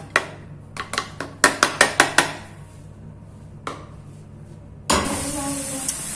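Sharp clicks and knocks of a utensil scraping a pan, a few quick taps in a row, then a soft hissing sizzle as onion starts frying over low heat.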